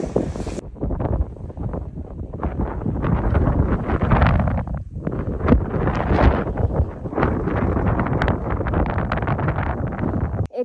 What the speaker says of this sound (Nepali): त्यही माथि यस्तो हावा चल्छ उडाउला जस्तै